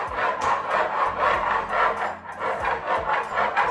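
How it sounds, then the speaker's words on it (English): A cake leveler saws back and forth through a sponge cake, a close scraping rasp that swells and fades in about six steady strokes. "you hold the cake down and you just saw back and forth."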